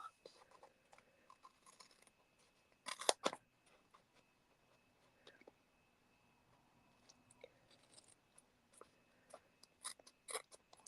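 Scissors trimming paper for a handmade Halloween gift box and tag: a quick burst of crisp snipping, then scattered soft cuts and paper rustles, close and fairly quiet.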